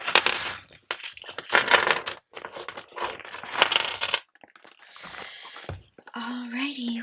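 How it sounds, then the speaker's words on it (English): Coins clatter and jingle in loud bursts as they are tipped out of a savings jar, close and bright, then quieter handling and a faint whisper near the end. "I didn't take my coins out at the end of the last cash stuffing, so we're gonna do that now"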